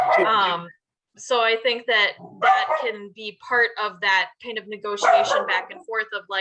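Phoebe, a pet dog, barks in the background during a remote meeting, her short yips partly buried beneath a person talking steadily close to the microphone.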